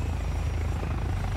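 Helicopter flying in the game War Thunder, a continuous close rotor thrum with a low pulsing beat across the brief moment.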